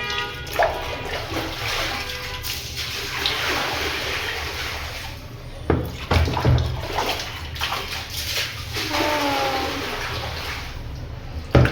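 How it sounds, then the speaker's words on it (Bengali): Water gurgles and sloshes as it drains from a tub, a continuous rushing flow with a few splashes and knocks near the end. "আমরা পানি ফেলে দিচ্ছি দেখো মাছ যেন আবার চলে নেবে"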